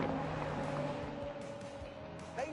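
Hybrid supercar from The Grand Tour Game on PS4 droning steadily at close range, a sustained engine tone with a faint rising whine near the end and no talking.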